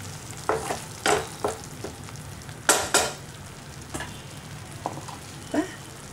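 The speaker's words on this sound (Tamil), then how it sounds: "மசாலா நல்லா வதங்கிடுச்சு, நல்ல வாசனை வருது." Masala for a bitter gourd gravy fries in a pan with a low steady sizzle, while a spoon stirs it in distinct scraping strokes, some louder than others, with no talk.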